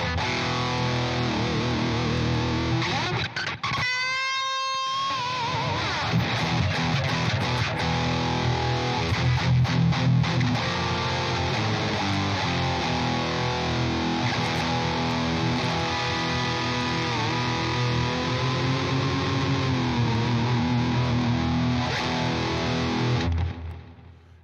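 An electric guitar plays through a Blue Meanie distortion pedal into a JMP Pro amp app with delay, giving a continuous crunchy, sustained tone with bent notes and a brief squealing slide.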